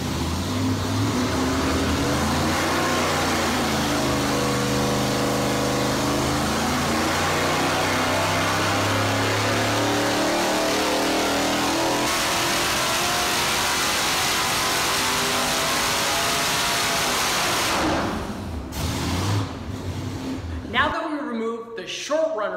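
A 4.3 liter L99 V8 fitted with a TPI intake manifold revs hard and close, rising and falling through repeated sweeps, then idles down to a rough burble before cutting off.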